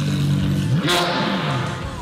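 A Lamborghini Aventador sports car engine revs hard, a loud, close burst that climbs and falls within a couple of seconds while people talk excitedly over it.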